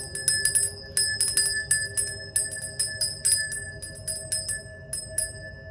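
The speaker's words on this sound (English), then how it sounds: "I'm going to ring the bell, okay? This may be loud for sensitive ears." A bell is struck repeatedly, about a dozen bright ringing strikes in uneven clusters, each tone lingering and decaying before the next, loud and close with no talking.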